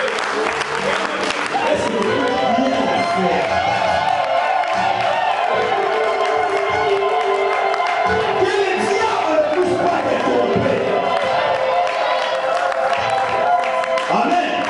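A church congregation cheers and acclaims Jesus, a dense, sustained crowd roar mixed with applause, whoops and shouts that stays loud and steady throughout.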